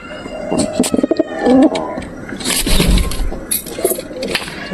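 Several soft, low pigeon coos repeat at close range, with rustling and a few sharp bird chirps mixed in.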